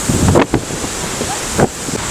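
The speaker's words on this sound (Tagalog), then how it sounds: "Andito ako ngayon sa White Beach ng Boracay Island saan napakalakas po ng Bagyong Betty ngayon" Strong wind buffets the microphone during Typhoon Betty on White Beach, Boracay, with surf rolling in behind it, loud and continuous, with a couple of sharper gusts.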